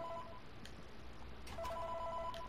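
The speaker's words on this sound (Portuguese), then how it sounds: "Muta o telefone." In Five Nights at Freddy's 3 played on Roblox, an in-game telephone rings in steady electronic trills over a low, constant hum of background noise.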